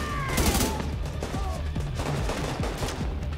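Gunfire from a pistol in The Division 2 video game, played on Xbox One X: a rapid burst of sharp reports over continuous battle noise, with no clear talk.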